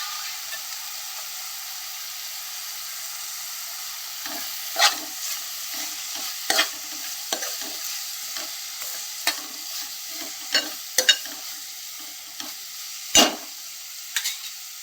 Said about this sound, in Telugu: అయిన తర్వాత పుదీనా కూడా వేసుకొని ఫ్రై చేసుకోవాలి